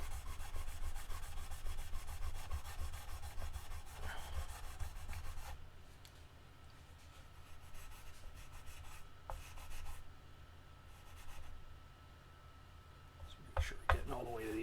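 Sandpaper rubs steadily back and forth against the wooden body of a Kramer Focus guitar, close and scratchy at first, then quieter, intermittent strokes toward the edges.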